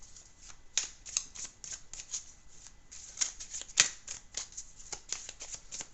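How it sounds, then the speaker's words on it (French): Tarot cards dropped and handled during a Taurus reading, a quiet run of soft papery slaps and shuffling rustles with a few sharper card snaps, close and continuous with no talk. "J'ai échappé plein de cartes."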